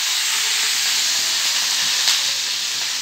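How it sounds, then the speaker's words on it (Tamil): Mustard seeds, urad dal, chana dal and curry leaves sizzle in hot oil for a sambar, a steady bright hiss held close and without voices. "வந்து கடுகு சேர்த்துக்கலாம், உளுத்தப்பருப்பு சேர்த்துக்கலாம், கடலைப்பருப்பு சேர்த்துக்கலாம். இப்போ வந்து கருவேப்பிலை சேர்த்துக்கலாம்"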